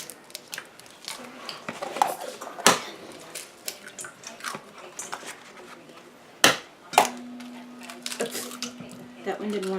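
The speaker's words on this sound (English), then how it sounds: "Get these eggs cracking." Jumbo eggs cracked one after another against a metal bowl in a home kitchen, giving a few sharp, close taps and clicks spread irregularly among quieter handling noises and light background rustle.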